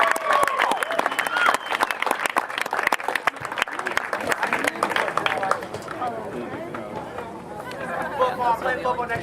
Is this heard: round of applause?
yes